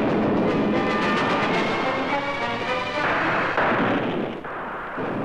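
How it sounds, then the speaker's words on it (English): Film sound effect of Confederate artillery firing on Fort Sumter in 1861, a loud continuous rumbling barrage with a dense roar and a tonal hum, easing slightly near the end, no talking. "when the Confederates fired upon the fort."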